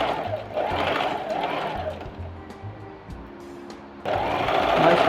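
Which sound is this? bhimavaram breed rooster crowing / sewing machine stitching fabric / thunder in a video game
sewing machine stitching fabric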